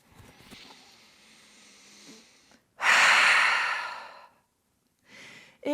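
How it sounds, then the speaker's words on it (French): A deep yoga breath, drawn in through the nose and then released through the mouth as a long, loud airy exhale, close and alone, followed by a shorter breath. "Grande inspiration par le nez, grande expiration par la bouche."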